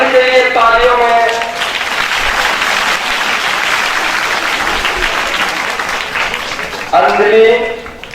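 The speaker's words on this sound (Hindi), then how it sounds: "काजल, काजल के लिए तालियों में" An audience at a theatre event honouring a drama team breaks into loud, dense applause lasting several seconds, with a voice speaking over the clapping at the start and again near the end.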